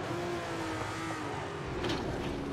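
A 1967 Ferrari 312/67 racing engine in Grand Prix Legends on the Nordschleife, with a steady high-revving drone and a harmonic that slowly falls and rises as the revs shift, loud and continuous throughout.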